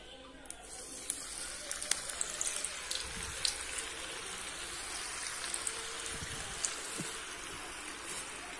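Murukku dough made with poha and butter, pressed into hot frying oil in a pan, gives a steady, dense sizzle that runs throughout at an even level, with faint occasional crackles.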